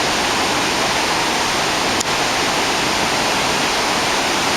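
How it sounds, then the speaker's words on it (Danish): Swollen river water after heavy rain pours down into a valley in a steady, dense rushing roar, close and constant like a waterfall, with no voices over it. "Bare lige kigge ned, og så ned i dalen ryger alt det her vand."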